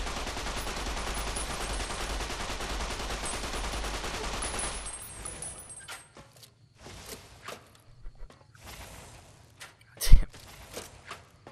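Gunfire from a game of Fallout: New Vegas on Very Hard Hardcore, with a dense stretch of rapid shooting at first and then scattered sharper shots, one loud crack near the end, and a voice talking over it.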